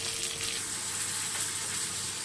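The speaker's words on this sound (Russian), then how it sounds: "Жарим 10-15 минут в зависимости от размера рыбы." Fish fries in a pan with a steady, soft hiss of sizzling oil, even and continuous throughout with no voices.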